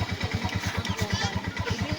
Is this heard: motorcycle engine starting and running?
yes